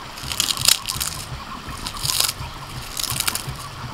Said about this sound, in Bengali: চিপসের আওয়াজটা শুনেই বুঝতে পারবেন যে কতটা ক্রিস্পি হয়েছে।